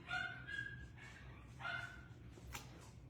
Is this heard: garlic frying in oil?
no